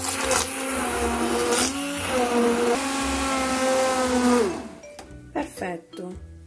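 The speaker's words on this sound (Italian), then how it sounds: "lo frullate per circa un paio di minuti a velocità 4, altrimenti io faccio con il mini pimer" A mini pimer immersion blender whirs through a coffee liqueur mix, a loud steady motor whine with shifting pitch for about four seconds, then cuts off, followed by brief clinks.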